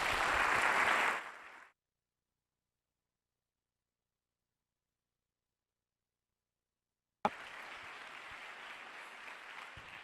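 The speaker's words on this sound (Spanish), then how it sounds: "Más fuerte el aplauso, a ver." Audience applause at a round-table discussion on C. S. Lewis: a burst of clapping breaks off into silence, then a steadier, quieter wave of clapping starts abruptly and carries on.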